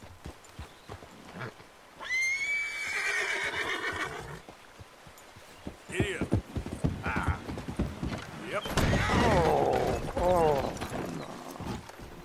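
Tennessee Walker horse in Red Dead Redemption whinnying loudly and clip-clopping, with a second neigh and hoofbeats later, mixed with game sounds and someone talking over them.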